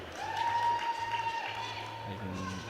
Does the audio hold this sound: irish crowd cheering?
yes